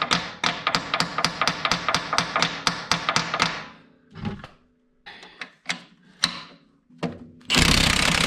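Hammer strikes on a rusted part of a Toolcat transaxle: a fast, even run of about fifteen sharp metallic blows, then a few scattered heavier hits with pauses, ending in a burst of loud noise.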